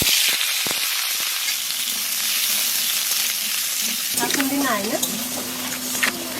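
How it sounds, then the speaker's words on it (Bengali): Cut potatoes drop into hot oil left over from frying fish, a steady close sizzle that jumps to a busier, bubbling crackle partway through, with a faint voice briefly under it. "মাছ ভাজার তেলের মধ্যে আলু কাটা দিয়ে দেবো।"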